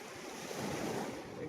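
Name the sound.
cold wind blowing at Veraval beach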